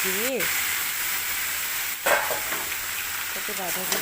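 Cabbage frying in a pan with green chillies, nigella seeds and dried red chillies while being stirred, a steady broadband sizzle with a couple of scraping stirs and faint background voice.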